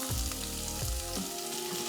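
Chopped onion hits hot oil seasoned with bay leaf and cardamom for a pea and peanut pulao, giving a steady close sizzle broken by a few low scraping stirs, with no talking.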